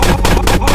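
Video game gunfire scoring a headshot: a dense, loud burst of shots with rapid repeated cracks packed into under a second.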